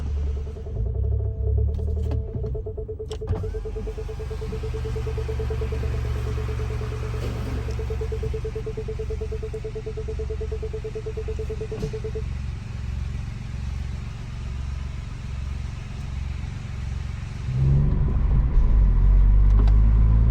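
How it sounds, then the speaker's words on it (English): Mini car fitted with a new exhaust, heard from inside while driving: a steady mid-pitched engine drone with a low rhythmic rumble and road noise, swelling louder near the end, with no talk. "So pretty nice sound with the new exhaust"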